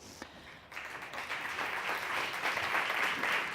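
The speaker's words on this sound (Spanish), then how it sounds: "Les vamos a dar un aplauso." Applause starts up and builds into steady, dense clapping from a crowd at a culinary startup prize event, sustained through to the end.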